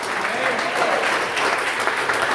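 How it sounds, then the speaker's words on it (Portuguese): A congregation claps throughout a Sunday worship service at a spiritual retreat church gathering, giving a dense, sustained round of applause that stays loud and even from start to finish. "Diminuir os aplausos, né?"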